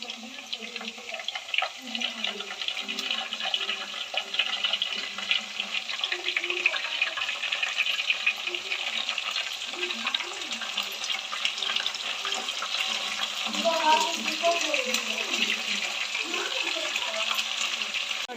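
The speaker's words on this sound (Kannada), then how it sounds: "ನೋಡಿ, ಈ ಥರ ಎಣ್ಣೆಯಲ್ಲಿ ಸ್ವಲ್ಪ ಬೇಯಲಿಕ್ಕೆ ಬಿಡಬೇಕು" Brinjal (eggplant) pieces frying in oil in a pan, giving a soft, continuous hiss and crackle that is fairly faint and steady throughout, with occasional low sounds of handling in the background.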